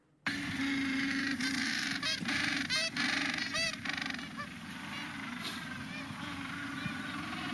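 Gentoo penguins calling in Antarctica, a loud continuous chorus of honking, braying calls with repeated harsh bursts over a dense colony din, close and steady throughout.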